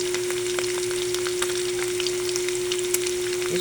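Food sizzles and crackles steadily in a hot pan during cooking of spaghetti Malabon, a close, continuous frying hiss dotted with small pops, accompanied by a faint constant hum.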